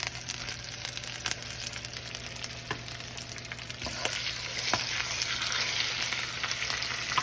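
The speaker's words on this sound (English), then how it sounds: "We're starting this in the frying pan." Chicken sizzles steadily in a hot frying pan, with a constant crackling hiss and occasional sharp pops, growing slightly louder partway through; no talking.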